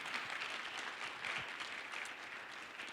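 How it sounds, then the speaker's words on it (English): Audience claps through a dental industry awards ceremony, a soft, even wash of many hands applauding continuously at a distance, with no speech on top. "can we give a round of applause to Bill and to Kim for all that they do?"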